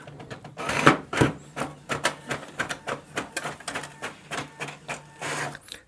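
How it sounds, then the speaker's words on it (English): A Brother MFC-J1170DW inkjet printer prints a page, its rapid rhythmic clacking and whirring repeating steadily and close by, with a constant mechanical hum underneath. "This printer prints very fast,"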